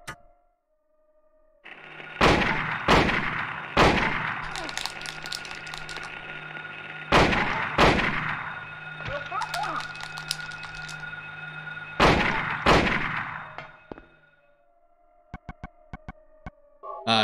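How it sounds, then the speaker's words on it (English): A hunting rifle fires in Silent Hill: about seven sharp, loud shots, mostly in pairs spaced a few seconds apart, over a constant droning background. "I'm going to use the hunting rifle against them."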